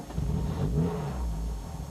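A 1989 Mercedes car with a six-cylinder engine revs in a steady, low, throaty rumble that swells slightly, heard alone at moderate loudness.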